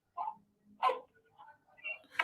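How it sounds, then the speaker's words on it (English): A dog barks a few times at a distance, in short uneven yips and barks spread over two seconds, faint and somewhat muffled in a quiet room. "My dog is like barking."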